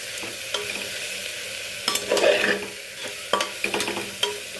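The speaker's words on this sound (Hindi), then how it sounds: "फिर सबको अच्छे से मिक्स कर दूँगी।" Spices with garam masala powder being stirred in a frying pan, a spoon scraping in irregular strokes over a soft steady sizzle, with a few louder clinks and scrapes partway through.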